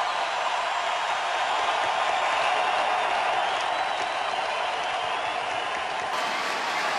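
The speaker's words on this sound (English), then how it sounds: "And the crowd standing goes wild." Hockey arena crowd in Vancouver cheering and applauding as they stand, a dense steady roar of clapping and voices held at even loudness throughout, distant and wide with no single voice standing out.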